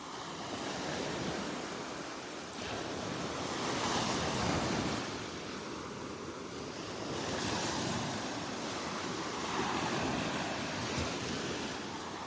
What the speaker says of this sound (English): Little wave action here this morning.